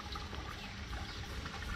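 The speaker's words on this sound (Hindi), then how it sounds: "इसमें पानी आनी डाल देते हैं और फिर चलाएंगे इसको मस्त कर" Water poured by hand into a small fountain's basin, a steady close splashing trickle with continuous liquid rush and no talk.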